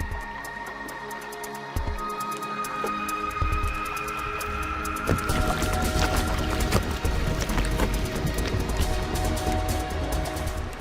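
Antarctic icebergs float in ice-jammed water at Sierra Cove, with glaciers pouring off the surrounding mountains. A dense, steady crackle of popping bubbles and grinding ice grows louder after the opening seconds, with a faint low hum running underneath.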